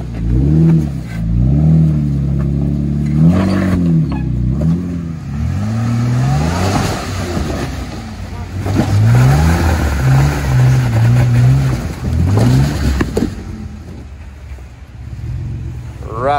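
An off-road vehicle crawls over a rough, rocky creek trail at Tackett Creek, its engine revving up and down in repeated surges as the tires bounce over obstacles, loud and close, with no talk.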